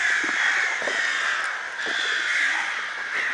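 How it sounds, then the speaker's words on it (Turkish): Several crows keep up continuous harsh cawing among village trees in Kars during summer, the overlapping calls loud and steady throughout with no voices. "Bu karga sesi"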